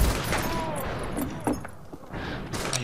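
Shotgun blasts and other gunfire in the western shooter Fistful of Frags sound as scattered reports over a busy, noisy game mix, with some speech in the background.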